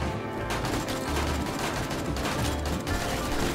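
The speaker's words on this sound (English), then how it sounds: "Turret's finally getting some use" Automated turret in 7 Days to Die firing in a fast, continuous burst during a zombie assault on a defensive wall, dense gunfire rattling steadily throughout.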